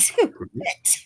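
One short sharp sneeze bursts out at the start, followed by a murmured voice and a second hissy burst near the end.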